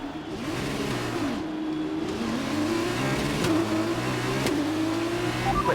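A race car engine in an F2 racing video game revs at the start, a loud, steady drone that rises and falls in pitch with a few sharp blips on top.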